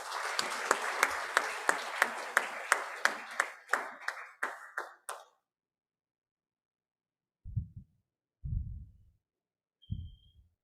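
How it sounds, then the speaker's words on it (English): A round of applause from an inauguration audience welcoming the chief guest rings out for several seconds, then fades; a few isolated thumps follow after a silent pause. "welcome our chief guest, Professor A.K. Mahapatra"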